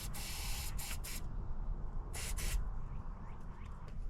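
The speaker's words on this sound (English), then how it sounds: "let's spray some starting fluid down it and see what happens" Several short bursts of aerosol starting fluid spray hiss close by into a 1963 Plymouth Belvedere engine that has sat since 1978: a long blast, two quick ones, then a double burst, over a low background hum.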